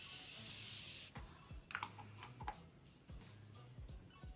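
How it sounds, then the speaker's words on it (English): Morphe Continuous Setting Spray hisses in one sustained burst onto a face, followed by soft taps and rubbing sounds nearby, quiet and without speech. "my face with this Morphe Continuous Setting Spray."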